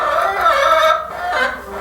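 A broody hen clucking, a steady run of low throaty clucks and murmurs, close by and fairly loud, with a short dip before it resumes.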